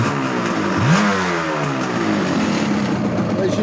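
Yamaha RD350LC motorcycle engine, freshly rebuilt with new crank seals, revving up with a rising pitch then holding a steady, buzzy two-stroke drone, close and loud throughout.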